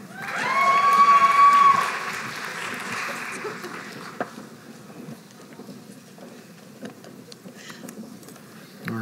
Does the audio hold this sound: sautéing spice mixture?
no